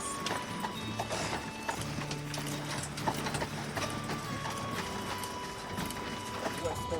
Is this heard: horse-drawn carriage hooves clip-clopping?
yes